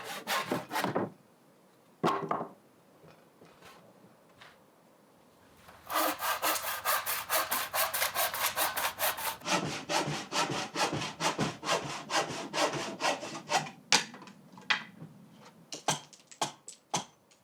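Handsaw cutting wood for handmade kitchen hooks: two brief strokes, a pause, then a long run of quick rhythmic back-and-forth rasping strokes, close and clear, ending in faster, sparser cuts.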